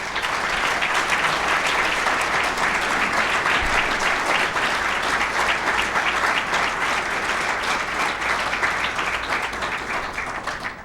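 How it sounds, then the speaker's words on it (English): Sustained applause from a sizable crowd at a city's State of the City address, dense and steady clapping throughout, tapering slightly at the end. "These folks deserve your applause."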